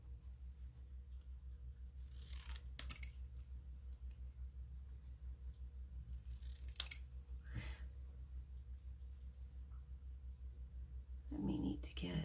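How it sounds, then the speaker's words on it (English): Paper snips cut a stamped paper word piece: a few crisp, isolated clicks spaced several seconds apart over a quiet room hum, close and faint, with a soft rustle near the end. "I'm going to use my paper snips and I'm just going to cut out this word piece"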